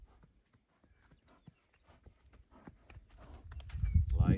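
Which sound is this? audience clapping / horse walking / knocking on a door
horse walking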